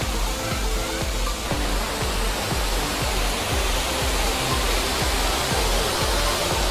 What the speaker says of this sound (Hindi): वाटरफॉल की आवाज़ मात्र से आपको काफ़ी सुकून मिलता है।